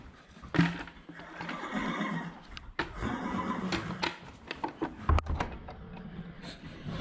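A horse whinnies and snorts close by at feeding time, amid hoof clatter and shuffling noises, with scattered knocks and bumps throughout.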